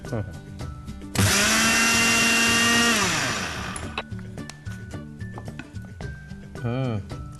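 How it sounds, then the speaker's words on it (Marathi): Mixer grinder whirring loudly for about two seconds as it grinds roasted sesame and poppy seeds, then winding down, with a person talking before and after. "आपण तीळ भाजून ठेवलेत ते जरा मिक्सरमधून काढूया तीळ आणि ही खसखस"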